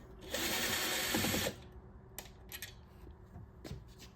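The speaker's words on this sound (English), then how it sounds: "I'm just going to go ahead and use the power drill." A power drill whirs steadily for about a second removing screws from an arcade machine, then stops, followed by a few faint clicks and taps.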